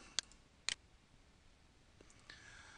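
Two crisp, close mouse clicks in quick succession in a quiet room, followed by faint softer ticks and low background hiss.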